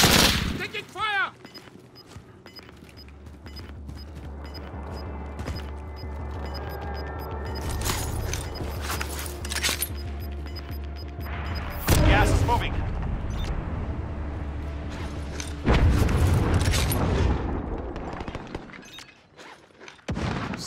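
Gunfire from the Call of Duty: Modern Warfare video game, with loud bursts and booms near the start and again around the middle and end, over a steady low rumble, with voices talking at times.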